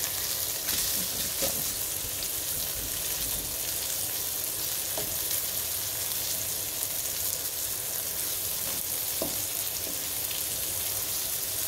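Breaded fish fries in a pan with a loud, dense, unbroken sizzle and occasional pops, close up and steady for the whole stretch, with no voices.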